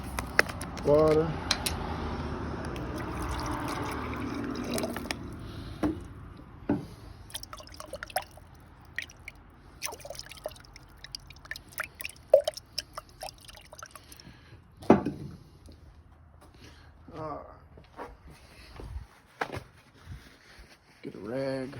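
Water poured into a baking soda mixture for electrical wood burning, a soft liquid trickle and a few drips heard near and fairly faint, with handling clatter and occasional talking.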